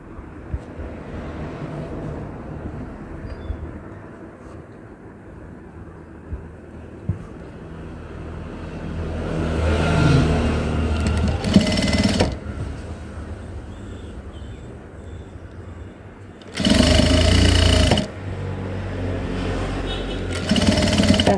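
Domestic sewing machine stitching a small lace trim onto fabric during home tailoring, its steady mechanical whir running through most of the stretch with louder sustained bursts near the middle and end, speech faintly present.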